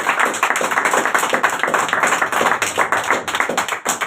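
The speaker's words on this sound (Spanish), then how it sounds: "Démosle un aplauso al Señor, un aplauso grande" A church congregation applauds the Lord during a sermon, loud, dense clapping from many hands in a fast, continuous rhythm with slight swells over a few seconds.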